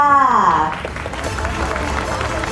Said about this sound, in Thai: ขอเสียงปรบมือต้อนรับทีมฟิลแมนเนี่ยทีมนักเขียนและผู้กำกับค่ะ